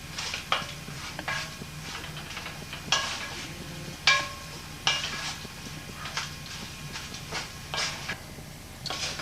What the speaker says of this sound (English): here's the herbs being fried